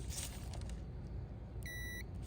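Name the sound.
multimeter continuity test beep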